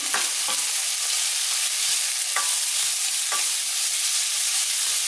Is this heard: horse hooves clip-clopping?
no